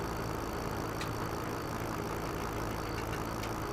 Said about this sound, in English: This kind of tractor is ideal for those kind of maps.